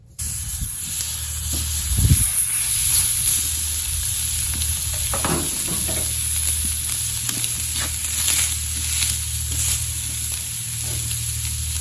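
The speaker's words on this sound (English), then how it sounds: "Let's go ahead and get this steak onto these GrillGrates" Steak sizzles steadily on hot GrillGrates, a constant bright hiss of searing fat with occasional crackles and small pops, close and continuous throughout.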